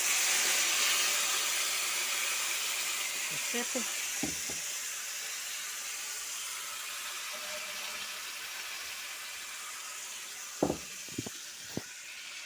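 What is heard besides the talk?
vegetables frying in pans for eggplant caviar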